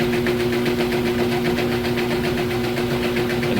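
A GE washing machine spins fast in its spin cycle, a loud, steady whirring hum with a constant mechanical drone and faint rhythmic pulsing, close by and without talk.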